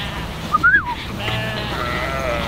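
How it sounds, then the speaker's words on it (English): A sheep gives a single clear bleat among ewes and lambs being moved by trailer on a farm, heard close above a steady low background rumble. "here we go, he's got the sheep here now"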